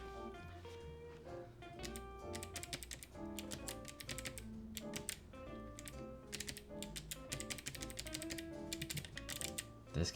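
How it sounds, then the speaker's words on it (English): Rapid, steady keystrokes clatter on a faulty computer keyboard, close and fairly loud, layered over continuous tonal background sound. "Man, I really wish this keyboard worked."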